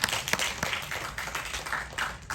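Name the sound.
audience applause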